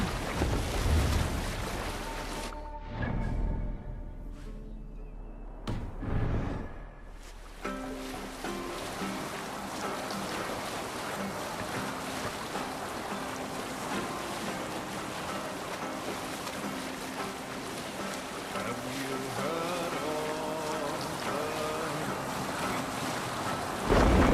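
A Viking longship sails over the waves in Assassin's Creed Valhalla, with steady wind and rushing water over a continuous backdrop of game music.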